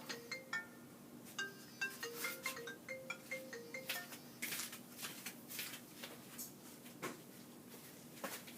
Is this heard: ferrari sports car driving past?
no